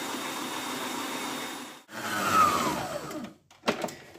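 An electric hand mixer whirs steadily as it whips egg yolks with sugar for a speculoos tiramisu, a continuous motor drone that cuts out near the end before a few short bursts.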